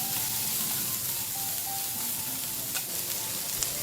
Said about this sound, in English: add the garlic and the red and green chillies. Stir well and fry for 2 minutes